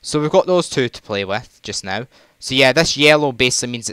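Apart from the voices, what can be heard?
None of the usual background noises is heard.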